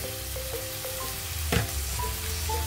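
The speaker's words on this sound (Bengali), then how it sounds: "চালটাও একটু মশলার মধ্যে প্রথমে কষিয়ে নেবো ভালো করে" Rice sizzles and fries with spices in a pan, giving a soft, steady crackle with a few light stirring scrapes and one brief clatter near the middle.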